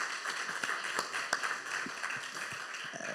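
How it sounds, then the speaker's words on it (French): An audience at a summit book presentation applauds a panel guest, the clapping soft and somewhat distant, a steady patter of hands with a few sharper claps standing out over a few seconds. "On peut l'applaudir aussi."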